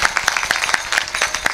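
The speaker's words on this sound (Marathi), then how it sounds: "त्यांच्याकरता एकदा जोरदार टाळ्या वाजवा" An audience at a Marathi kirtan devotional gathering claps enthusiastically, a fast, dense patter of hand claps, loud and close, continuing throughout without talk.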